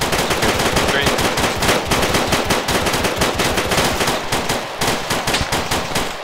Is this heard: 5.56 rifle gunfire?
yes